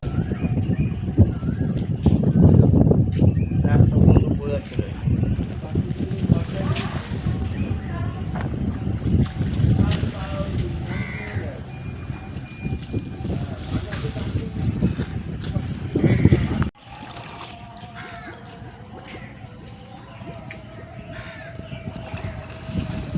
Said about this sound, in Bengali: সুন্দর লাগছে না হাওয়াটা, দেখা যাচ্ছে।